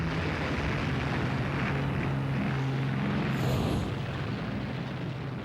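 A Junkers Stuka dive bomber approaches as a steady, loud, dense drone with a low engine hum throughout, swelling slightly near the middle before easing off, with no voices present.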